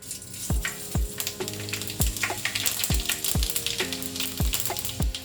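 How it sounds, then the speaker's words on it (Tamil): Fennel and fenugreek seeds crackle and sizzle in hot oil, sharp pops repeating about every half second over a steady frying hiss, close up. "இந்த சோம்பும் வெந்தயமும் போடணும் தாளிக்க."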